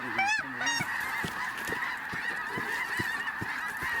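Snow geese honk in flight during a hunt, a dense, steady chorus of many overlapping calls at moderate distance, with a few closer, louder honks near the start.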